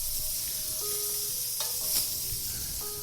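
Sausage, peppers, tomatoes and mushrooms sizzle steadily together in one pan, a continuous loud frying hiss broken by soft stirring scrapes, with a faint tonal beeping in the background.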